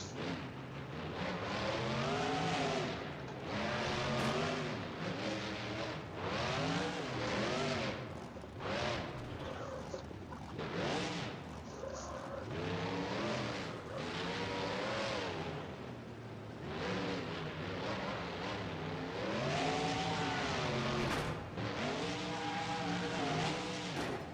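A monster truck engine in BeamNG.drive, a modded truck with an early suspension design, roars and revs continuously, rising and falling in pitch with acceleration, loud and close with no talk.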